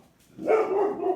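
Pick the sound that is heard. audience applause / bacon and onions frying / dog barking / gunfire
dog barking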